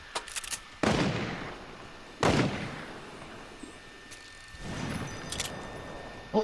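Gunfire in the video game Fortnite, three separate heavy bursts of shots with long decaying tails, fairly loud and close, with small clicks between them and no talk over them.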